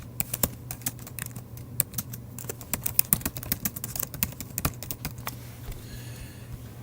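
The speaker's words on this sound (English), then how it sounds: "we want to type the same title" Rapid, irregular clicks of a computer keyboard as a title is typed, close and clear over a low steady hum, with no one talking.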